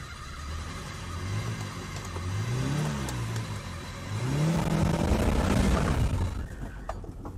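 A rescued 1983 BMW 320i E21 pulls away under its own power, the engine revving up through the gears in rising and falling sweeps, close and fairly loud with some rattling.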